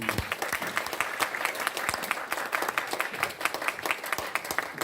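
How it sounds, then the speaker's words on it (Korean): Applause from a lecture audience at a hospital talk on newborn and infant crime, many sharp claps in quick irregular rhythm, fairly loud and close, lasting throughout. "다시 한번 박수 부탁드립니다"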